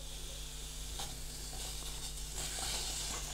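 Onion dropped into a hot pan with no oil sets off a continuous soft sizzle and hiss that swells slightly near the end, close and quiet, with no one speaking.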